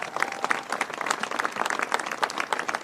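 Audience at Governor Healey's event on the MBTA Communities Law breaks into dense, steady applause, many hands clapping together in a continuous crackling wash with no voices over it.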